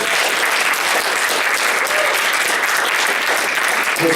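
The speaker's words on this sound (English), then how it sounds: "Can we actually get a round of applause for this?" An audience at the Kitacon fan convention breaks into steady applause, a thick continuous burst of clapping that fills the room from start to finish.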